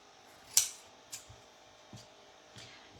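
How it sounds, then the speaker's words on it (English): Scissors trim stamped background cards with a few sharp, separate snips, the first the loudest and the rest softer, all close up and quiet against a faint steady hum. "Right, so just going to trim these up."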